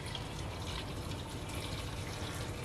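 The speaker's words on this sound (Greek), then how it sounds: "θα βάλουμε νερό" Water pours steadily into a pot of chickpeas with thyme for a traditional Sifnos chickpea stew, a close, continuous splashing rush with no talking.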